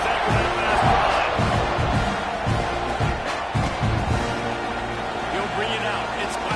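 A steady roar from a college football stadium crowd at Florida State versus Texas A&M, swelling around a kickoff, with a commentator's voice talking over it throughout.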